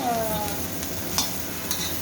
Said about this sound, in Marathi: मीठ आणि हळदच टाकायचं आपल्याला आणि आता परतून घ्यायचं